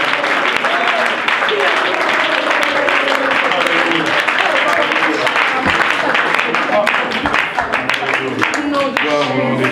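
A church congregation claps and applauds steadily and loudly throughout, a dense continuous patter of hands filling the room, with voices calling out beneath it.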